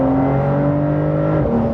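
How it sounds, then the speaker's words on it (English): Engine of a Porsche 911 Carrera 992.2 revving, a loud sustained tone holding steady then dropping in pitch near the end, close and continuous with no talk. "They give you this engine."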